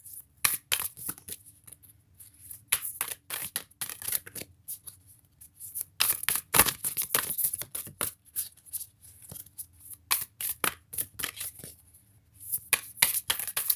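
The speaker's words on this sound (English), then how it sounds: "watching me trying to deal these big ass cards" Large oversized tarot cards being dealt and shuffled by hand, giving repeated crisp papery slaps and flicks in uneven bursts, close and fairly quiet, with brief pauses between handfuls.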